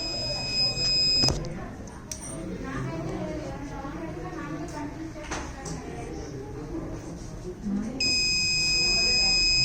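A steady, shrill electronic high-current alert buzzer on a distribution transformer monitor sounds at the start, cuts off, then returns loudly near the end, with murky background noise in between.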